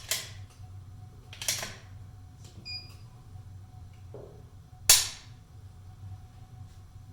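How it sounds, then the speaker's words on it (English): A Tikka T1X MTR rifle trigger being pulled against a Lyman trigger gauge, giving sharp crisp mechanical clicks, with one loud snap of the trigger breaking near the end, close up in a quiet room. "Just want to go ahead and give you a sample pull here."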